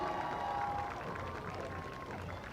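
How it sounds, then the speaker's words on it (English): Crowd applause and cheering at a high school football game between New Caney HS and Caney Creek HS, honoring Moorhead Junior High cheerleaders: steady, dense clapping and crowd noise holds throughout, with a faint tonal hum running beneath. "big round of applause for our junior high tonight"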